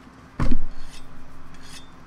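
A whetstone rasps along a blade as a hunter sharpens a weapon in Monster Hunter World, one strong scraping stroke followed by quieter repeated grinding passes at close range.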